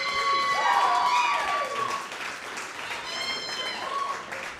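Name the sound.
comedy club audience applause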